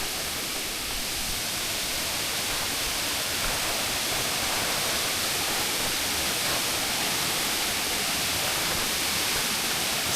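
Second waterfall on a hiking trail in Japan near Tsumago-juku, a continuous, even roar of falling water heard close and loud throughout, with no voices.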